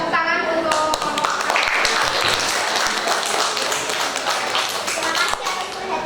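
Students in a sociology open class at school give a round of applause, close, lively clapping with sharp individual claps and a few children's voices mixed in.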